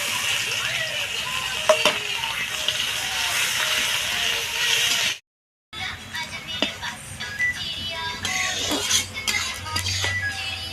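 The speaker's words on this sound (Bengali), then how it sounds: "পেঁয়াজগুলোকে ভেজে নেব।" Two large chopped onions frying in oil with whole cumin, dried red chillies and bay leaves make a steady close sizzle and hiss, broken by a brief silent gap, with occasional stirring scrapes.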